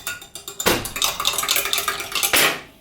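A peach cobbler G Fuel drink is mixed with a spoon in a cup, a few taps and then a steady run of rapid clinking and scraping close up, ending with a final knock.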